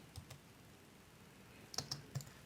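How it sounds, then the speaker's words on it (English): Faint, sparse taps on a computer keyboard, a couple of isolated keystrokes followed by a quick cluster of clicks, heard close up in a quiet room with no one talking. "So I'm gonna type in something like custom"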